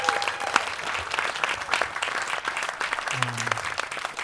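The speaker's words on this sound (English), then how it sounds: "If you could give a collective mighty round of applause for all the bands" A crowd at a live music event claps for the performing bands in full, even applause, with a few whoops and voices rising briefly above it.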